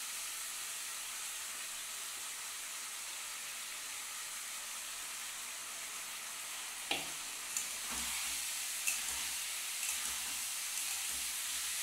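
Broken wheat tipped into a pan of frying vegetables and lentils, a steady sizzle running throughout, with a few sharp clatters and stirring scrapes near the end as the grain goes in; no voices.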